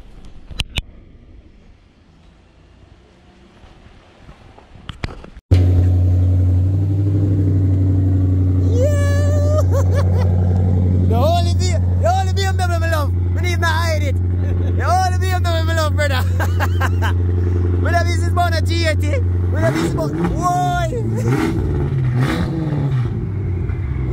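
A BMW M6 V8 starts after a short crank and settles into a loud, steady idle with a deep drone, heard close by for about twenty seconds while people shout and talk excitedly over it.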